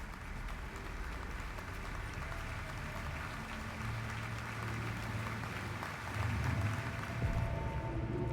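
Steady crowd applause fills a cinema in the video game Alan Wake 2, a continuous wash of clapping at moderate distance that swells slightly toward the end.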